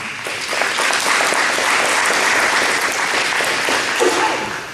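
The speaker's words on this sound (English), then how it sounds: "let's give him a round of applause one more time" Loud, continuous applause from a crowd, many hands clapping steadily without pause throughout.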